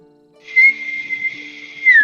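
A voice imitates a long, steady whistle answering from across a river in strange woods, a clear sustained tone rising at the start and bending downward at the end, loud and alone.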